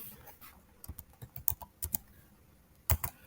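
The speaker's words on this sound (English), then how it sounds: "Type the username Kali," Typing a username on a computer keyboard, a short, quiet run of close individual key clicks in an uneven rhythm, with a firmer pair of strokes near the end.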